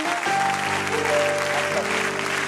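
A church congregation applauds in a dense, sustained wave of clapping, with cheering and a held tonal note running beneath it throughout.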